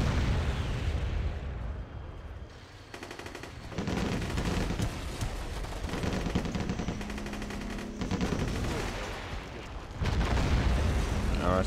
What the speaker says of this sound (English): Our artillery supporting us.